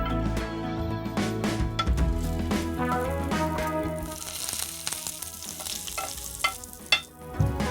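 Hot tempering poured into chayote chutney: a loud, busy sizzle and crackle with stirring and scraping sounds, close and continuous, with no talk.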